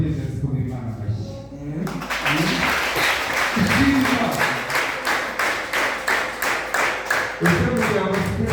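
A church congregation claps together in praise of God, with rhythmic group clapping following a short stretch of someone speaking, and voices continuing over the beat.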